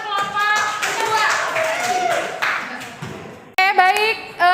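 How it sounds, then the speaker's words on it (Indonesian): Classroom applause for a student group at a secondary school lesson, a burst of clapping from students lasting several seconds, with children's voices mixed in and a teacher speaking over the end. "Tepuk tangan untuk kelompok kedua."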